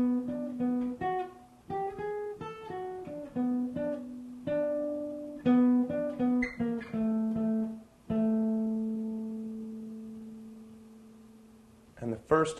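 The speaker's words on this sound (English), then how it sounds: "the sixth phrase of the guitar solo from Hank Williams' I'm Satisfied With You sounds like" A guitar plays a solo phrase from Hank Williams' "I'm Satisfied With You": clean, clear single notes and short runs, some ringing out, played alone and close.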